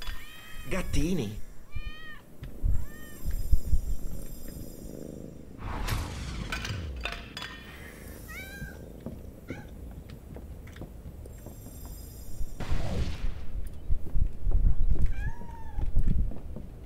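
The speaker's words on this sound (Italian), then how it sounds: "Gattini!" Kittens in the Hogwarts video game give a run of close, high meows in short bursts, mixed with game sound effects and a person talking over parts of it.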